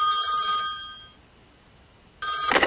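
A mobile phone ringtone plays loudly, cuts off for about a second, then rings again sharply near the end; no talk.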